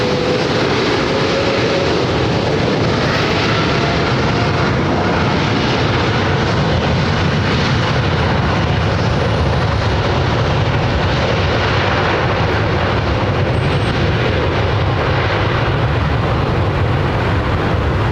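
Boeing 787 Dreamliner on the runway at London Heathrow, a steady, loud broadband engine roar with a deep low rumble that holds throughout, heard alone without voices.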